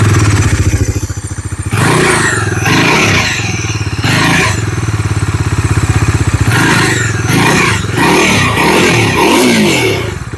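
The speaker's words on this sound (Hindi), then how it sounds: "तो ये है exhaust note of the Dominar 400 with the new 350 CC engine" A Bajaj Dominar 400 motorcycle with a 350 cc engine idles with a throaty, pulsing exhaust note, then revs up sharply several times in loud bursts before settling back.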